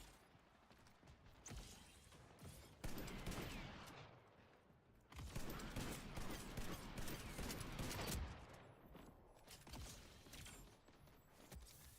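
Bursts of gunfire from a gun in the video game Splitgate, rapid machine-gun-like volleys in several loud stretches separated by brief lulls, with no talking over them.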